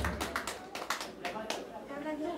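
Guests at a 50th birthday celebration clapping, a quick burst of sharp claps at the start that gives way to voices talking, all fairly quiet.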